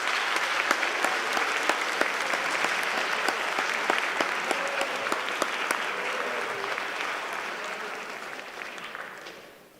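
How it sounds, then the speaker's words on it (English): At a Parent's Day presentation, an audience applauds as a cadet comes down to the stage: loud, full clapping from many hands with sharp individual claps standing out, holding steady before tapering off at the end. "Let's give him a round of applause before he gets there"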